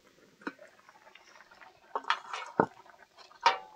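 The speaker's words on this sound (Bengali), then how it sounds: "এবার চাপা তুলে নেব।" A lid is lifted off a cooking pot holding steamed vegetables, giving a few faint metallic clinks and scrapes spaced apart in a quiet kitchen, with a sharper clatter near the end.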